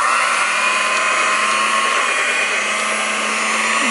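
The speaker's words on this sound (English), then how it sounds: "Next, you get to have fun with the mixer" An electric hand mixer on low speed blends brownie batter, producing a steady, close, continuous whirring hum with no pauses.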